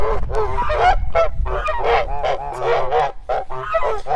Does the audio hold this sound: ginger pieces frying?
no